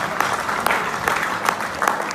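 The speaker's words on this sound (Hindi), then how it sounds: "ताली हो जाए सबके लिए जो खा रहे हैं" Audience applause in a hall during a network marketing talk: steady mass clapping with scattered louder claps, close and continuous, no voices over it.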